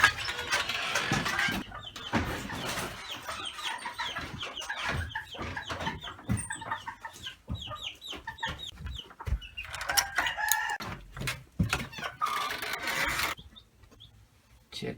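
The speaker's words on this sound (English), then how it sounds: "We've moved them into this brooder we built in the barn." Young chickens, fully feathered former chicks, cluck and peep continuously inside a homemade brooder in a farm barn, close and busy, with scratching and rustling mixed through the calls.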